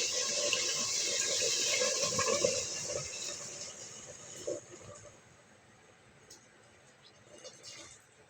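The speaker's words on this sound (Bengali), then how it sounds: "এখন দিয়ে দেব ঝোল।" Broth poured into a pot of mutton with bottle gourd gives a steady, close rush of liquid for several seconds, then tapers off into faint dribbles and small clinks.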